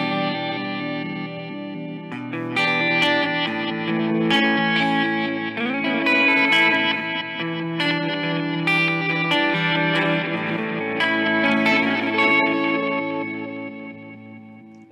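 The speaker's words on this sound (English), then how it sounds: "Pretty musical for a reverse delay, right?" Electric guitar through an Electro-Harmonix Canyon pedal on its reverse delay setting, swelling, backward-sounding notes and chords layered with chorus and reverb, playing continuously and loud with no talk.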